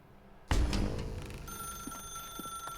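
A telephone in the Stanley Parable game gives a sharp metallic ring that decays while a faint electronic tone rings on, with no talking.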